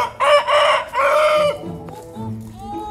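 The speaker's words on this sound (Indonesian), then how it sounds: "Ini ada makan, ayam, ada ayam." A rooster crows loudly in a long two-part call, then quieter chicken clucks and calls follow nearby.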